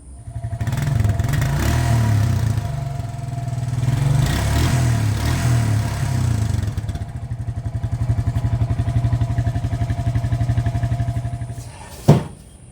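A 2001 Honda Rancher 350 four-wheeler with a smoking, worn top end idles steadily nearby, its low, even engine chug holding for several seconds before a sharp clack near the end.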